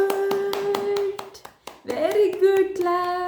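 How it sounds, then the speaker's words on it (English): An infant claps hands in a series of sharp, close taps, with an adult voice talking over them and a voice partway through. "good claps."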